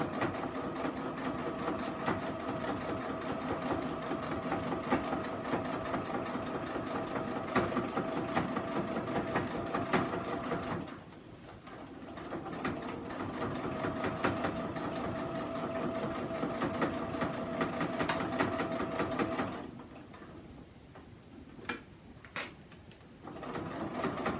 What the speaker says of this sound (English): you want to try to sew in a straight line, just like we did on the other side to give it that finished look